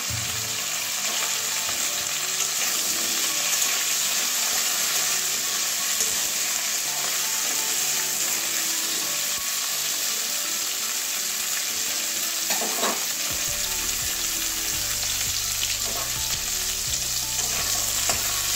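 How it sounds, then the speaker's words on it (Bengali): Potato pieces fry in oil in a pan for a cauliflower moong dal, a loud continuous close sizzle with occasional stirring scrapes and a low hum joining partway through. "আলুটাও দিয়ে দিচ্ছি, একসঙ্গে সব ভেজে নেবো। একটু লাল লাল করে ভেজে নেবো।"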